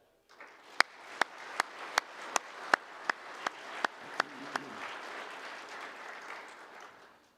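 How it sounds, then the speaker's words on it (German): A church congregation gives a round of applause, soft, dense clapping spread across a room, with a series of sharp, evenly spaced taps cutting through near the front before the clapping fades out. "werden wir einen Applaus geben dafür."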